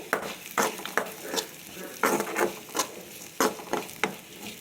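Coconut powder and masala frying in a pan for a potato and lemon rice dish, with repeated scraping strokes of a spoon over a soft sizzle, close and rhythmic, about two per second.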